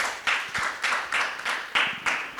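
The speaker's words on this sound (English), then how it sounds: "A big round of applause for Saroj." Clapping at a FinTech conference session in Dubai, heard as a series of separated bursts of hand claps, roughly rhythmic, each rising and fading quickly, moderately loud in a hall with no talk over it.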